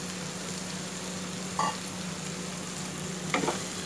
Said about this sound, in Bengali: এর মধ্যে এখন আমি ভেন্ডিগুলোকে দিয়ে দেব।